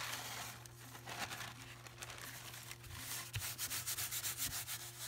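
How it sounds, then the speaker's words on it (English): A glue stick rubs and presses napkin paper down onto a junk journal page, with soft scratchy crinkling strokes that turn into a quick rhythmic back-and-forth rubbing near the end, close and quiet, no talking. "I am using the glue stick"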